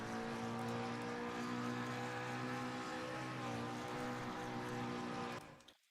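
A McLaren race car engine in Assetto Corsa Competizione hums at steady revs, its tone briefly wavering as the fuel runs out before it cuts off abruptly near the end.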